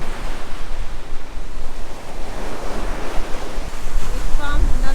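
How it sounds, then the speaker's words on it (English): Waves crashing on the windward shore of a cay in the Abacos, Bahamas: steady loud surf roar mixed with strong wind buffeting the microphone, continuous throughout. "see the waves crashing, this is the windward side"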